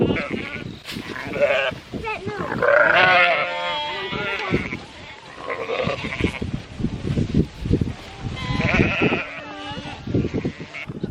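A flock of sheep bleats loudly and repeatedly at close range while waiting to be fed alfalfa, many overlapping calls with shuffling and handling noises throughout.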